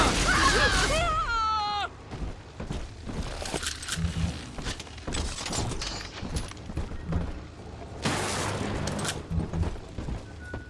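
Gunfire volley from several guns in the underwater city of Rapture in Bioshock 2, rapid cracking shots and metallic clatter in bursts, loud and close, with a pause and a second flurry near the end.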